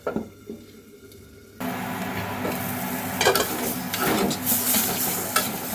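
Fish sautés in oil in a pan, starting quietly and then breaking into a louder, steady sizzle with wet stirring scrapes and squelches from a utensil, heard close up with no talk.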